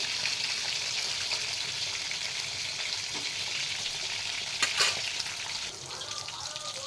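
Pieces of katla fish frying in oil in a pan, a steady, close sizzle with a brief louder crackle partway through and faint background sounds.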